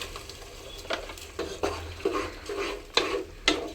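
Ground onion masala blended with green peas, being added to a paneer curry pan, produces a series of close wet scrapes and stirring strokes over a low sizzle, with spaced clinks of utensil on pan.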